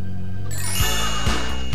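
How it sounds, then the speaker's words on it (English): Doorbell chimes ringing in a home, two bright ding tones sounding over a steady low hum of background sound, loud and close with no voices. "But if the doorbell rings, you've still got to get up."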